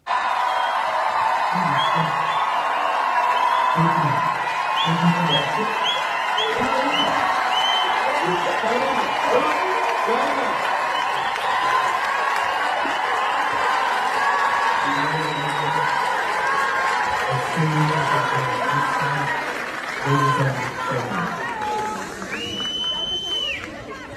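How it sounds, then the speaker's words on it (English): A large crowd gathered outside the Swedish parliament, a sustained roar of cheering, whooping and applause that stays loud throughout, with chanting-like bursts and voices mixed in the dense noise. "But here's the crowd outside."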